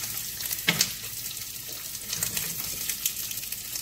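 Breakfast frying in a pan gives a soft, steady sizzle with a few sharp clinks and light clatter, faint and close, with no voices.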